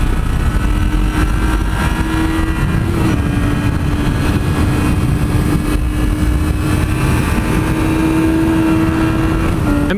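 A 2017 Yamaha R6 sport bike engine holds a loud, steady drone while riding, with a constant low rumble and a faint rise in pitch near the end.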